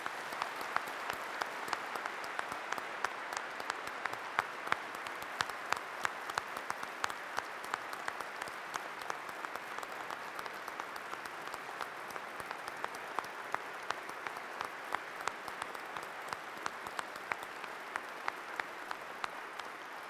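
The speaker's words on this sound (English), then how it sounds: "Let's give them all a round of applause." Audience at an Army town hall in Wiesbaden, Germany, giving a steady round of applause, dense clapping that holds evenly for about twenty seconds without talk.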